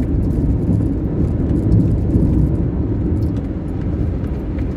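A small, short car drives over an uneven rural road, a steady loud low rumble of tyres and engine with bumps and rattles running continuously throughout.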